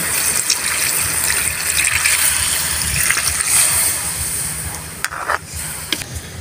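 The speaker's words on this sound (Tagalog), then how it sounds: "Nang maigisa natin ng maigi yung toge, maglagay na tayo ng tubig." Water pours into a pan of sautéed bean sprouts for a sotanghon noodle dish, a steady close gushing splash lasting several seconds with a few sharp clinks near the end.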